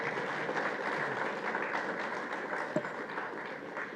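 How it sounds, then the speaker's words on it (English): Steady audience applause fills a ceremony hall for a medical equipment distribution event, a dense even patter of many hands clapping at moderate volume throughout. "I think that deserves a round of applause."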